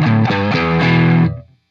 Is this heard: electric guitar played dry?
yes